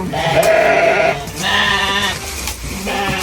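Cows being fed on a farm in a village, giving loud, bleating calls in three drawn-out bursts close by, with a little background noise between them.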